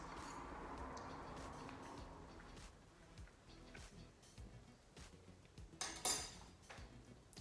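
A fork or other cutlery scrapes and taps on a plate while someone eats a slice of homemade baked cheesecake, making faint, sparse clinks over a soft background hiss, with one sharper clink near the end.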